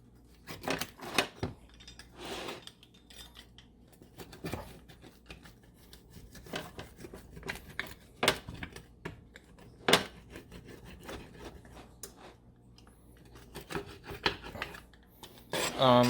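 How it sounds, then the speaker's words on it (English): A DiGiorno pizza being sliced, with scattered scraping, rasping cuts and clicks against a plate or pan, irregular and close, with quiet pauses between bursts. "So now what you're going to want to do is cut the pizza."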